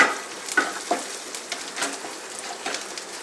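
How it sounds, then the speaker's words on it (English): Chicken masala sizzles and crackles in a hot pan as it is stirred, a steady close fry with scattered sharp pops and spoon scrapes, no voices. "And we'll stir it until it becomes golden brown."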